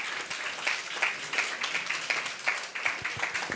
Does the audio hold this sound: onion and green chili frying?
no